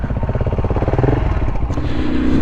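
A trail motorcycle thrums loudly and steadily close by on wild, windswept Yorkshire Dales tracks, the engine pulsing rhythmically as it climbs slightly in pitch, with faint clatter.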